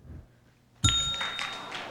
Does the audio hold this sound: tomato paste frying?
no